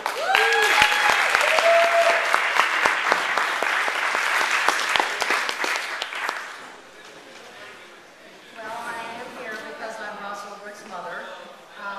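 An audience gives someone a loud, dense round of applause that fades after about six seconds, after which a voice begins speaking over the thinning claps.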